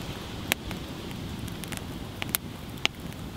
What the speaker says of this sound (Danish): Det er et flot bål, hva'?